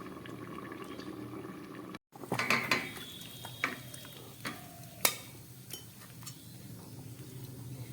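A lid is set on an iron pan of chicken and potato cooking over a gas flame, with a sharp metallic clank followed by light rattles and clinks over a soft bubbling simmer.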